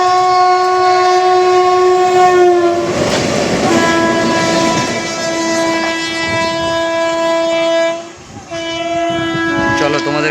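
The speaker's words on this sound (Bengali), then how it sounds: "তোমাদেরকে কোনো মালগাড়ির ইঞ্জিন আসতেছে, ইঞ্জিনটাকে তোমাদেরকে ক্লোজভাবে দেখাবো।" A freight train locomotive passes close by at a rail crossing, loud and sustained, its horn sounding in long steady tones over the rumble and clatter of the wagons, with a brief dip near the end before the horn resumes.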